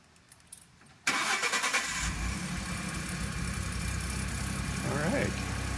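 A car with a reworked exhaust system fires up after a few faint clicks, then settles into a loud, steady, rumbling idle up close.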